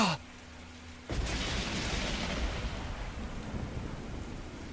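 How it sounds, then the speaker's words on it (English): A sharp crack of thunder from a video game storm breaks in suddenly, then gives way to a loud, sustained rumbling roar with a rain-like hiss that slowly fades. "There was a sound like the sky ripping apart, and a blinding flash of light. Lightning, thunder."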